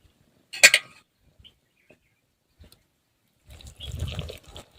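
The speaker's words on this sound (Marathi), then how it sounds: "तर आता याच्यात मध्ये परत पाणी ॲड करायचं आहे" Water poured into rice flour dough for rice papad: a short splash near the start, a few faint drips, then a longer burst of wet pouring and mixing near the end.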